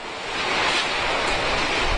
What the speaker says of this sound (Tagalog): Nandito tayo ngayon sa may pier ng Tacloban at napakalakas na ng hangin